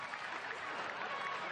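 A football crowd of nearly 3,000 at a testimonial match applauds, a distant, steady wash of clapping heard from far off in a stadium.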